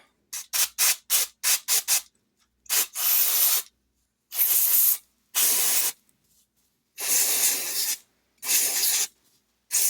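Short bursts of aerosol spray hissing while spray painting a model locomotive, first rapid quick squirts, then longer sustained sprays separated by pauses, close and fairly loud.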